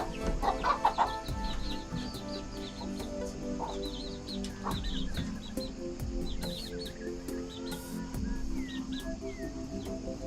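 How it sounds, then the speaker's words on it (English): Two Whiting True Blue hens with their chicks in a farm coop, giving soft, intermittent clucks close by. Faint high peeps and chirps are scattered among them, and no one speaks. "So we only have 2 hens in there with the chicks."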